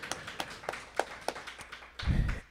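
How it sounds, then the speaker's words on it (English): A few meeting attendees clap to welcome a new membership coordinator at a members' meeting, scattered separate claps spaced apart rather than a full ovation, ending in a soft low thump. "So round of applause for him."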